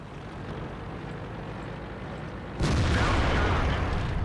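Heavy tank cannon in World of Tanks firing at an enemy vehicle's tracks: a low engine rumble gives way to a single loud, booming shot that rolls on afterward.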